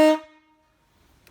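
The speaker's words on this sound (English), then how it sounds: "this is the air horn by itself" An eBay train-style truck air horn, wired on its own, gives a single short loud blast that cuts off quickly into near silence.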